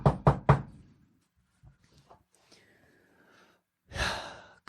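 Three sharp, close knocks rap on a plain wooden door in quick succession. A stretch of soft breathing and faint rustling follows, then a louder breathy exhale or sigh.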